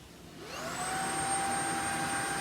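A Shark cordless vacuum cleaner runs on its low setting with a steady whine that rises as the motor spins up, then holds loud and constant close by.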